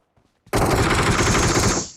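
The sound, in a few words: gunfire in PUBG video game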